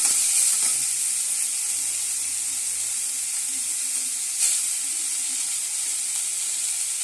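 Spices, a bay leaf, green chilies and spring onion sizzling in hot oil in a pan: a steady, close, bright hiss of frying, continuous throughout with a couple of faint clicks.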